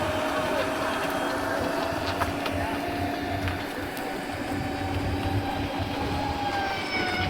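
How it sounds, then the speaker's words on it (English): A train rumbles steadily nearby in Egypt with continuous mechanical clatter and faint high squeals from the wheels, no talking over it. "And that's the rest of the train out there."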